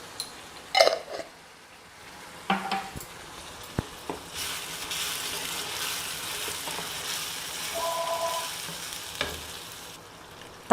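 Onions and tomato frying in a pan for a South Indian tamarind gravy with banana stem, giving a steady low sizzle with scattered clinks and stirring knocks.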